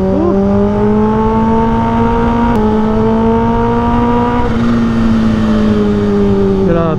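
Supercharged Kawasaki H2 motorcycle engine revving close and loud, a strong sustained drone with a slowly rising pitch and a brief change in note partway through, with a voice faintly underneath.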